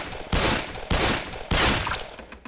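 Three heavy gunshot blasts in The Happyhills Homicide video game, each one loud and close with a long noisy tail, spaced roughly half a second apart, and no talk over them.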